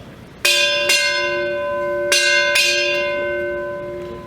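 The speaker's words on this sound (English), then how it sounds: "Sound 4 bells." A ship's bell rings four clear strikes in two close pairs at a US Navy retirement ceremony, each tone ringing bright and decaying between the pairs.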